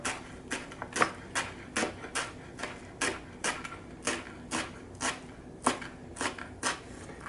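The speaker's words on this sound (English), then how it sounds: "The more you put, the less work you have to do on chopping them." A knife chops a bundle of chives on a cutting board for bagel topping, a quick steady series of sharp, close taps at an even rhythm, roughly two per second.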